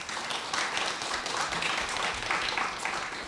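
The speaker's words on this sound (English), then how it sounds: "Another round of applause for that." Conference audience applauding at a panel event, a dense steady wash of many hands clapping throughout, moderately loud with no speech over it.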